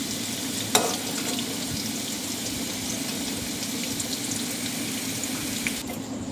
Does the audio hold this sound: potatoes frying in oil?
yes